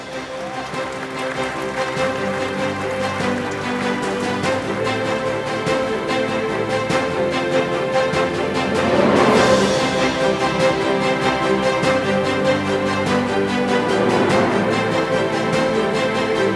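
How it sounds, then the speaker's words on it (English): Continuous audience applause at a college annual sports award ceremony, a dense hiss of many hands clapping, with musical tones sounding underneath and the clapping swelling briefly midway. "Please give them a big round of applause."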